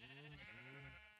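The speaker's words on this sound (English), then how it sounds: "The sheep are loud." A sheep in a Minecraft FTB modpack gives a loud, drawn-out bleat, repeated in quick succession and heard alone and close.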